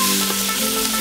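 Meat stir-fried in a hot wok with soy sauce, a steady close sizzle and crackle of frying running unbroken with no talk.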